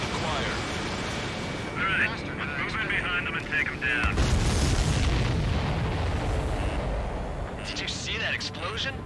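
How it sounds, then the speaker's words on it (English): A supply ship explodes in the Ace Combat 7 video game, a heavy booming blast and rumbling roar amid steady jet engine noise, with radio voices talking over it. "explosion? Looks like that's one of them down."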